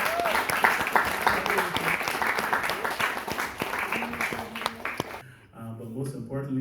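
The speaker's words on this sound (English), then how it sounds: "I think all of you need to give yourselves a very big round of applause." An indoor audience at a movie premiere claps steadily for about five seconds, a dense wash of applause that fades out as a voice begins speaking.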